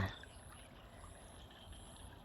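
Water flows steadily downstream through a small channel where a fish trap is set, making a faint, continuous trickling rush with no voices.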